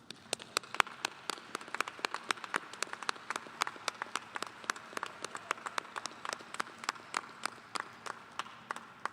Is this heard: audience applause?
yes